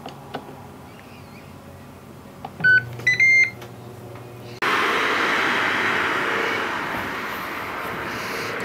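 A Ninja Foodi cooker making pizza in an RV gives a few electronic beeps as it is set, then its fan switches on abruptly and runs as a steady, moderately loud whoosh to the end.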